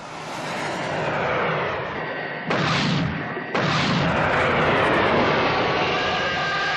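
Heavy gunfire from aircraft shooting at alligators in a Thunderbirds episode, a loud sustained roaring barrage broken by a brief drop and sharp resumption.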